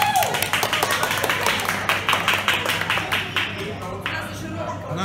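Rhythmic hand clapping from players during a team clapping game at a winner celebration, rapid claps repeating for several seconds, close and fairly loud, with speech mixed in.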